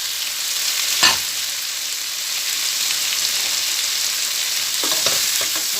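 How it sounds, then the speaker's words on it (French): Diced potatoes fry in butter and oil, giving a steady close sizzle throughout with a sharp clatter of stirring near the start and a few more light scrapes toward the end. "On va revenir les pommes de terre là un petit peu dans le beurre, un peu d'huile."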